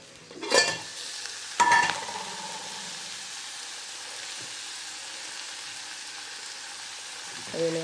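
Urad dal tempering with chillies, coriander and garlic crackling in a pan, opening with two loud scraping stirs and then settling into a quieter steady sizzle before another stir near the end.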